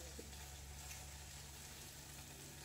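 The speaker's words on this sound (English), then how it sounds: "So can you hear it sizzle?" Avocado melt sandwich, vegetarian and gluten free, sizzling in a hot pan, a faint, steady frying hiss held at an even low level without break.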